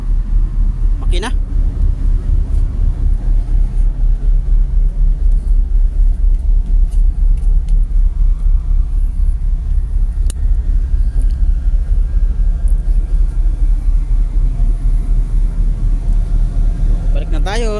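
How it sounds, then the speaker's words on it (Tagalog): A ship's engine room gives off a loud, constant low rumble with a steady throb. The noise runs unbroken throughout, close and dominant, while people talk faintly over it. "Maingay dyan sa ano, makina."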